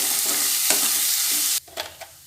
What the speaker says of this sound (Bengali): মসুর ডালটা আর কি পেঁয়াজ রসুনের সঙ্গে একটু কষিয়ে নেব